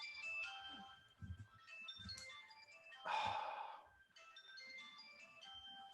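A phone ringtone for an incoming call plays as a bright, repeating electronic melody of short chiming notes, with a brief breathy sigh-like noise in the middle, fairly quiet and with no talk over it.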